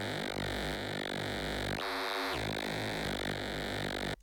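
Synth extra tone run through a phaser, made with Ableton Meld: a dense, buzzing, pulsing texture with sweeping comb-like ripples and a brief darker dip midway, steady and loud throughout.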